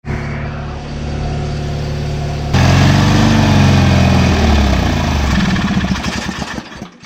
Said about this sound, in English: I'm going to go ahead and see if I can get this thing fired up, and I'll show it to y'all running if it runs.